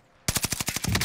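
Cooper carbine automatic fire in Warzone: a loud, close burst of about eight rapid evenly spaced shots after a brief quiet start, with no talking.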